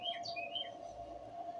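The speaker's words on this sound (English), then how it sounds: "I think it's a Carolina Wren." A Carolina wren calls outdoors with a few quick, high chirping notes clustered near the start, fairly faint over a steady background hum.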